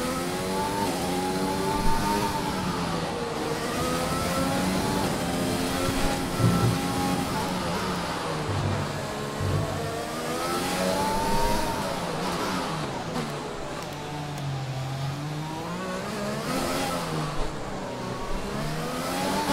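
Formula 1 race car engine in the F1 2020 video game at the Monaco Grand Prix, a continuous high-pitched whine rising and falling with gear shifts and throttle over nearly twenty seconds, with a player talking over it.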